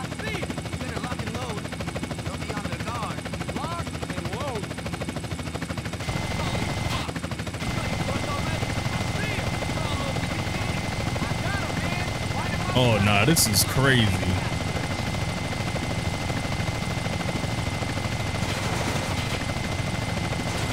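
Helicopter in Grand Theft Auto Definitive Edition, a steady rotor and engine drone under near-constant talk, with a brief burst of gunfire-like noise midway.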